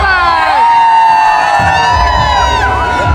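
Huge crowd at a bullock event in Chiplun, loud continuous cheering, shouting and whooping close by, with someone speaking over the din.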